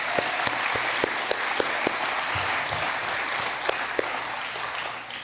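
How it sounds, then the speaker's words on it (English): Audience applause at a state opioid response summit in Maine, a steady broad wash of clapping that holds for the whole stretch at even loudness, with a few sharper individual claps standing out. "Can we please give them a round of applause?"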